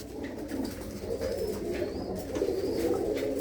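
Pigeons coo softly and continuously inside a loft in Tangra village near Amritsar, with a low, rolling murmur and occasional faint higher chirps.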